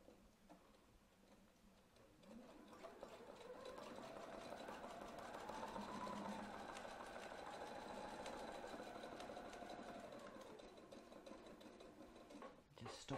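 A sewing machine stitches a six-inch fabric spiral, a steady rapid mechanical ticking that builds in speed, holds, then slows toward a stop, faint and close.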